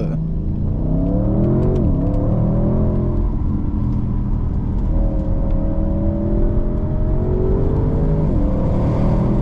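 An Audi RS6 accelerates hard on a twisty road, its engine note rising through the gears with a short dip as it shifts, heard loud and steady from inside the car.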